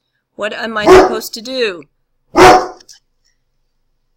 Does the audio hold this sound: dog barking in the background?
yes